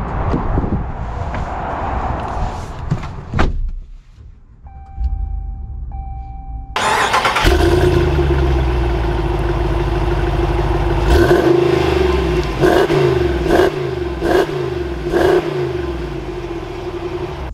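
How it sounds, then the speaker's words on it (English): A Ram Power Wagon truck engine cranks and catches, then settles into a loud, steady idle with clicks and revs before pulling away, close and continuous, no talk. "let's take this Power Wagon out and see how it drives."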